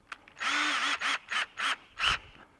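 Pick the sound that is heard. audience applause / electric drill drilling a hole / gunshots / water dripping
electric drill drilling a hole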